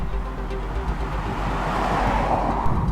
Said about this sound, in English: it does produce a distinct tone when rolling over the cross-grooved concrete expressway section of our route